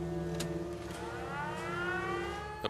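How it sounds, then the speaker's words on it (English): A settlement siren in Fallout 4 sounds a rising, wavering wail steadily with a low electrical hum underneath, growing in pitch across the whole stretch. "if we hit the siren"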